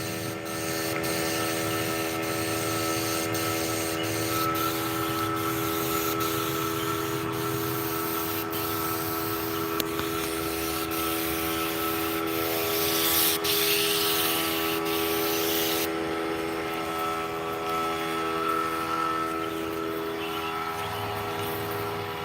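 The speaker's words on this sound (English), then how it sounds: "And with a little 3 horsepower pancake sprayer" A paint sprayer run by a small pancake compressor applies white chalk paint to a vintage armoire, giving a steady, loud spray hiss over a constant tonal compressor hum that continues throughout with brief changes in intensity.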